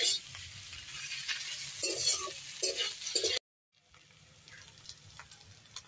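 Ginger and garlic sizzle in hot oil in a pan while being stirred, a steady crackling hiss with occasional scraping, which cuts out briefly and then resumes more quietly.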